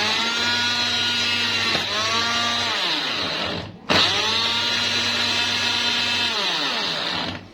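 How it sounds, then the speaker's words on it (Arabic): A blender blending lemons whirs loudly and steadily, briefly slowing and stopping twice before spinning back up to full speed. "بعد ما ضربت الليمون في الخلاط كده كله ببعضه"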